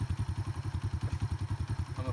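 A used motorbike engine idles steadily and close, with a regular, even ticking-over rhythm and no hiccups.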